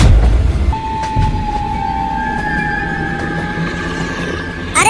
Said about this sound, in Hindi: ट्रेन को रोकना मत, नहीं तो हम सब भी ज़ॉम्बी बन जाएंगे।